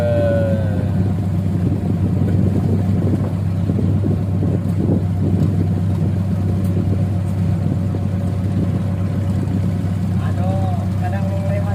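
A ketek motorboat engine drones steadily near the Ampera bridge, a constant low rumble mixed with wind noise on the microphone, with people talking over it.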